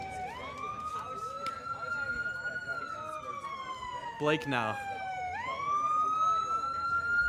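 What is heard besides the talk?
ambulance siren passing by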